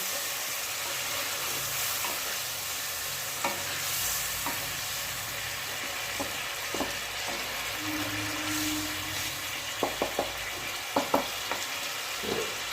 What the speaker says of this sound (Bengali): একটু করে ভেজে নিচ্ছে করছে আর একটু করে জল দিচ্ছে